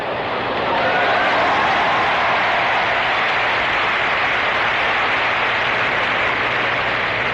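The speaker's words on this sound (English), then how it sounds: "the crowd burst into cheers for Tracy Austin" A tennis crowd bursts into cheers and applause for 14-year-old Tracy Austin, a loud, sustained roar of clapping and voices that holds steady throughout.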